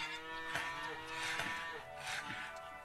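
Cows in the Lumberjack's Dynasty farming simulation game moo in a low, steady series of calls, fairly quiet and close, with a soft background hum throughout.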